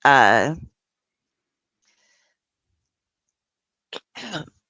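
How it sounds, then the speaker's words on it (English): A single close, throaty cough bursts out at the start, followed by quiet and then a couple of short breathy sounds. "I'm getting a cough."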